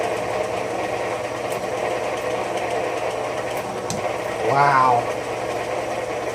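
A Cochrane Bly slotter head cutting metal chips gives a steady, close mechanical drone throughout, and a voice lets out a brief exclamation near the end.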